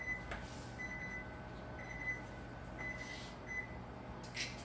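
A kitchen oven timer sounds a series of short, evenly spaced electronic beeps at a steady rhythm, fairly faint over a low room hum, while pretzel brownies bake.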